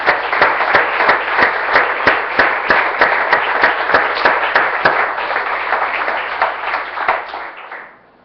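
A church congregation claps in a rhythmic unison beat, about two claps per second, loud and close, with cheering mixed in before it fades out at the end.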